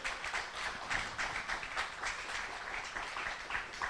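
Steady church congregation applause with dense, continuous clapping at moderate volume, no voices standing out.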